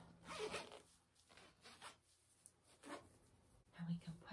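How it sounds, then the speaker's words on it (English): A zipper is pulled closed in a short, soft rasping run, with quiet whispery movement and faint handling noises around it during a preschool story and music session. "We can zip it up."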